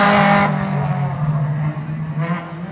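Race cars at Waterford Raceway, engines roaring loudly past close by with a sustained drone that fades away, then a brief higher whine.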